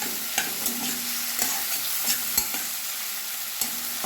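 Tomatoes frying over medium heat in a pan, a soft continuous sizzle broken by a steady series of sharp spatula scrapes and taps against the pan, close and without talk.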